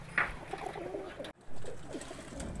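Breeder pigeons cooing nearby, soft throaty coos rising and falling over a few seconds, with a short gap in the middle.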